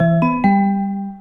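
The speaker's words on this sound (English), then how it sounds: "So the first one that's informational might be like when a train is arriving." A Long Island Rail Road informational chime of the kind that comes before a train-arrival announcement, two quick bright tones in a rising ding-dong that ring on clearly with no voice over them.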